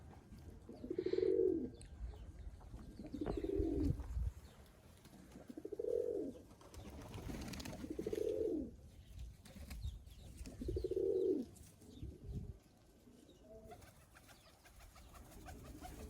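Caged pigeons coo in repeated low, rounded phrases, about five bursts with pauses between, close by and without any talking.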